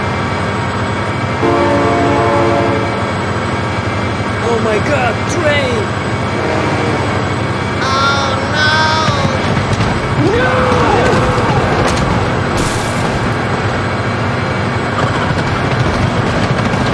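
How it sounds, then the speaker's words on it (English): Train passing in the BeamNG.Drive driving game, a loud rumbling rail roar with horn blasts and rising and falling tones, with excited voices shouting over it throughout. "Oh my God, train!"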